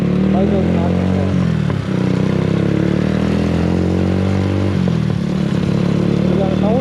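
An Apache RTR 180 motorcycle fitted with a new exhaust runs loud and close with a throbbing engine note, dipping briefly twice as the throttle is blipped.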